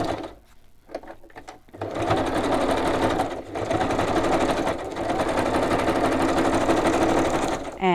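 A sewing machine stitching glued fabric pieces fed in one after another, starting with a few short bursts and then running as a loud, steady mechanical whir close by.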